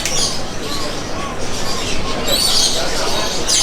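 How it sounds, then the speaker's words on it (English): Birds chirp and call in the background over a steady indoor murmur at a fish shop in a Thai market, with bright high twittering bursts near the end. "You can hear loads of birds in the background."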